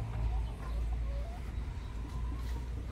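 Dekalb Brown hens clucking softly in a nesting box, low murmuring calls rising and falling over a steady hum, close but quiet, with no speech.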